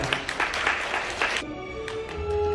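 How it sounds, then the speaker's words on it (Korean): Wedding guests clap at a ceremony: a dense burst of applause lasting over a second, then fading into soft, sustained music tones. "박수로 아버님의 단상 모시겠습니다."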